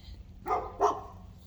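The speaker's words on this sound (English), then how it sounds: "Ooh, that dog is barking like a mug." A dog barks twice in quick succession at a moderate distance, two short sharp yaps over a low steady background hum.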